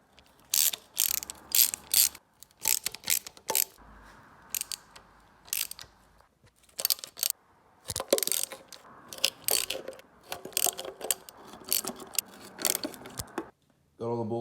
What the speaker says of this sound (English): Got all the bolts loose, now I'm gonna take them out.